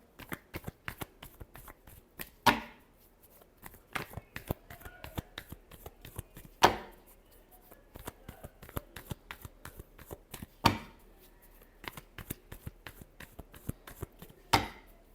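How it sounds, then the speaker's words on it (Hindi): Tarot cards are shuffled softly and repeatedly, a steady patter of quick card ticks broken every few seconds by a sharper riffle. It stays quiet and close. "Last shuffle."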